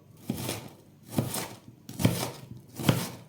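A knife chops a large red onion on a cutting board, four deliberate, evenly spaced thuds close up with quiet pauses between them.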